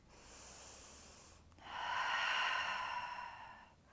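A deep breath during a yoga stretch, a softer inhale followed by a louder, longer, airy exhale, close and alone with no talking.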